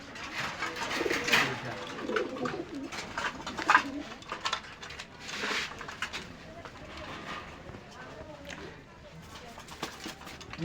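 Pakistani pigeons at a Khulna pigeon seller's coop coo in low, soft repeated bursts amid busy background noise, with people talking nearby throughout.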